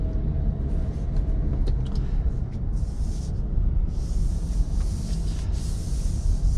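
A 2024 Cadillac CT5 with a four-cylinder engine accelerates on the road in sport mode, heard from inside as a steady, heavy low rumble of engine and tyre drone with faint airy hiss above, no talking.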